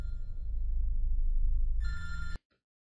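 A telephone rings steadily and loudly for over two seconds, one continuous ring that shifts to a brighter tone near the end before cutting off abruptly into silence.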